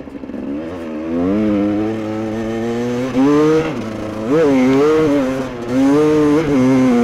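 A loud GasGas dirt bike engine, freshly repaired, runs close by throughout, its pitch rising and falling as the throttle is blipped and revved.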